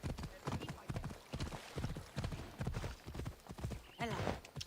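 Horse hooves galloping in Assassin's Creed Odyssey, a fast rhythmic clip-clop running throughout with a brief whinny near the end, up close under someone talking.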